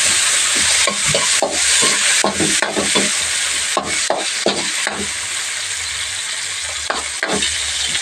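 Plenty of garlic and freshly added tomatoes sizzle in a pan while a utensil scrapes and stirs in repeated strokes, with a steady frying hiss underneath.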